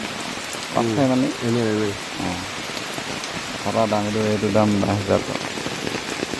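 Steady rain falls near Jorhat, Assam, a continuous soft hiss on surfaces that runs under the whole clip while someone talks over it in two stretches.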